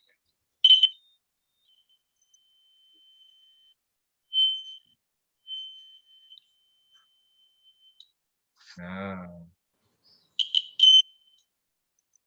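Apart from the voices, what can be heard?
battery-powered electric alarm buzzer sounding in classroom demonstration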